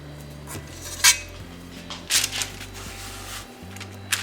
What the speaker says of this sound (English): I'm going to take my cookie dough scooper, and I'm going to try and do 6 per pan